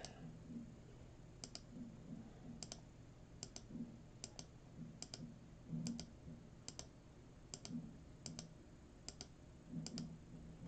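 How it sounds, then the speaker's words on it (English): A computer mouse clicks over and over on a name randomizer that shuffles a division order, about twelve sharp, crisp clicks spaced roughly evenly over a quiet room hum. "We're going to click this 12 times and we'll have a new order."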